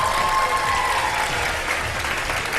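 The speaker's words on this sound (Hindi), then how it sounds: "बहुत सारी तालियां" Steady, dense applause from a TV studio audience, loud and continuous throughout with no breaks.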